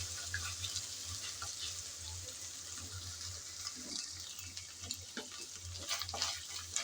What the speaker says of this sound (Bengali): নেড়ে চেড়ে ভেজে নিতে হবে যেন আদা রসুনের কাঁচা গন্ধটা চলে যায়